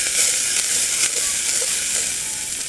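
Parsley and shallots frying in a pan while being stirred, a loud, dense, continuous sizzle close up with faint scraping of the stirring, no talking.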